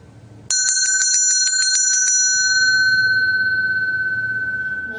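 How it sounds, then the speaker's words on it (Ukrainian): A school bell rings at a first-bell ceremony for pupils of a gymnasium in Berdiansk, a rapid bright metallic ringing lasting about two seconds, then a sustained tone fading slowly over quiet background. "Сьогодні учні Бердянської гімназії Лідер знову почують свій золотий дзвіночок"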